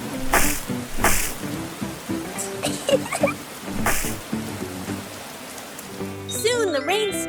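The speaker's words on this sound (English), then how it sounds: "The rain fell pitter-patter, forming big puddles all over the ground." Rain pattering steadily with occasional heavier splashy bursts, joined near the end by high squeaky chirping sounds.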